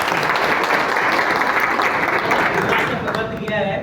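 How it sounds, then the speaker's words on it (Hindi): A large crowd at a rally in Maharajganj, Azamgarh applauds for Arun, giving dense, steady clapping that fills the whole stretch and thins slightly near the end. "और एक बार जोरदार तालियां हो जाए अरुण भैया के लिए"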